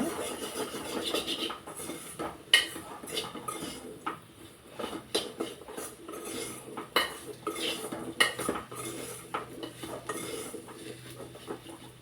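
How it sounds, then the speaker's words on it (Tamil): A spoon works chopped bottle gourd through spicy masala in a pan for a kuzhambu curry, with continuous scraping, rubbing and metallic clinks in an uneven rhythm, close and moderately loud. "சுரைக்காய் அரிஞ்சு வச்சுருக்கிறத நீங்கள் போட்டு நல்லா கிளறி விட்டு வணக்க விட்டுருங்க"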